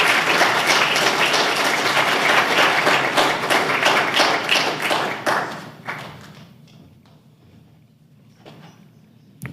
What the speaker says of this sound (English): Please give him a round of applause as he comes on up.